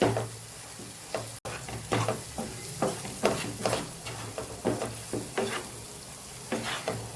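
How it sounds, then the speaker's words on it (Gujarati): A spoon stirs and scrapes red chili powder into chutney masala in a pan over a low gas flame, with a soft steady sizzle under repeated scraping strokes and no voices. "એક ચમચી લાલ મરચું પાવડર ઉમેરી દઈશું ગેસ આપણો ધીમો જ છે અને સરસ મિક્સ કરી લઈશું"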